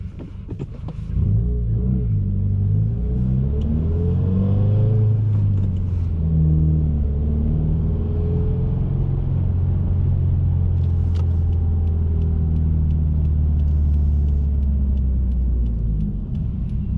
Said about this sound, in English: So let's go ahead and take the car for a drive.